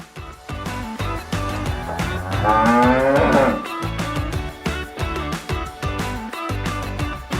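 A cow moos loudly once in the middle, over a steady background of rhythmic rustling and thumping, with faint mooing elsewhere.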